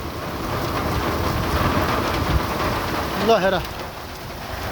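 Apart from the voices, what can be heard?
hail and rain storm with thunder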